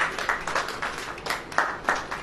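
Rhythmic audience clapping at a Christian sermon gathering, a quick, even train of sharp claps repeating roughly three times a second, moderately loud and fairly close, with no speech over it.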